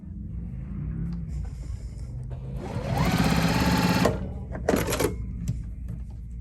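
A Juki TL-series sewing machine, from the TL-18, TL-2010 and TL-2000 line, runs a fast, steady burst of stitching for about a second, loud and close, with quieter mechanical clicks and handling before and after.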